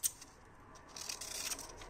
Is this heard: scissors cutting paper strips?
yes